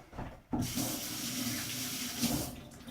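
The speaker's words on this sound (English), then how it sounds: "let me rinse my hands" Hands rinsed under a kitchen tap, with the water switching on abruptly after a brief pause and then running in a steady, close splashing stream into the sink.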